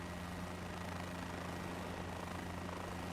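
A simulated helicopter in Microsoft Flight Simulator 2024 gives a steady, even rotor and engine drone with a constant low hum. The sound is moderately quiet and plays alone with no talking.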